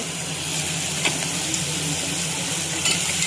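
Carrots stirred in hot oil in a pan, giving a steady, close sizzle with occasional utensil scrapes and clinks and no talking.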